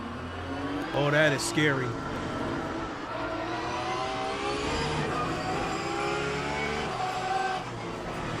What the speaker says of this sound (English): There's a group of faster cars bearing down on you.